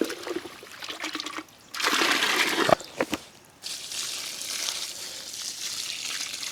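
Water is poured from a five-litre container onto a garden vine, about two litres, mixed with homeopathic drops. It comes as a close, splashing trickle in a few uneven bursts with brief pauses, with no talk.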